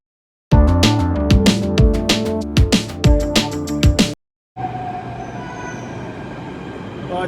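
Delhi metro train pulling into a station, a loud rumbling arrival with rhythmic wheel clatter and brief squeals, followed by a short gap and then a steady platform hum with a faint whine.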